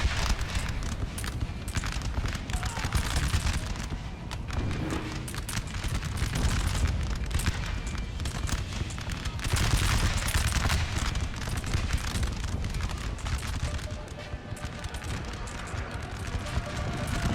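Musket volleys and French artillery fire in a Napoleon Total War battle: dense, continuous crackling gunfire with heavy booms, loud and unbroken throughout, with someone talking over it.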